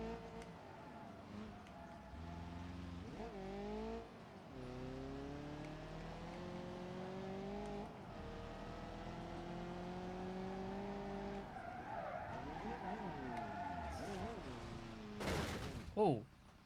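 Gavril Vertex car in the BeamNG.drive video game, engine revving and shifting through rising and falling pitch sweeps with tire skids and scrapes, ending in a sharp crash thump; loud and continuous.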